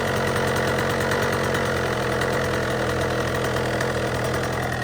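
A minibike engine fitted with a Lectron Billetron Mini 29mm carburetor runs steadily at a loud, close idle, its even mechanical drone continuing without a break and no voices over it.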